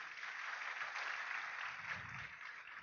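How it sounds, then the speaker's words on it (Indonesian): Audience applause for a speaker at a business seminar in Indonesia, a steady, muffled wash of clapping from a crowd, moderately faint and sustained throughout. "Mohon aplaus untuk bintang 8 Indonesia, Bapak Wawan Hermawan dari Bandung Bapak Ibu"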